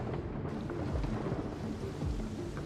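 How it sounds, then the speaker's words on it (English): Thunderstorm with steady rain, a dense continuous hiss of rainfall under low rumbling thunder, fairly loud and close, with no voices. "the ocean churns beneath the stormy clouds that darken the very sky that now roams with thunder"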